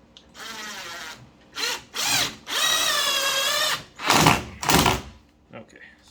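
Cordless power drill driving a screw at an angle into a door frame stud while hinges are replaced, several close, loud whirring bursts of rising and falling pitch separated by short pauses.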